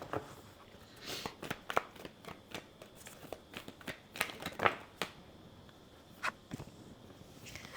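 Tarot cards being shuffled by hand close up, a run of quick, crisp riffling rustles and soft slaps in irregular bursts, with no talking.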